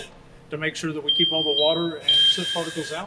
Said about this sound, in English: That sound you just heard is a thing called a pass device.